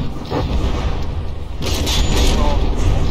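Kinetic mortar shells detonate against a warship's wood and metal armor in the naval combat game From the Depths, a sustained rumbling barrage of booms that swells louder in the second half.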